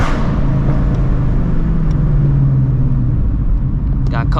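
Deep, loud engine rumble from a straight-piped Shelby GT350 cruising city streets at 1 a.m., a steady throaty drone with a low droning hum, while someone talks over it.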